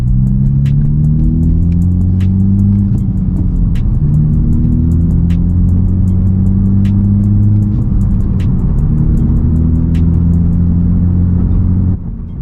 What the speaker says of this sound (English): the exhaust completely changed the sound of the car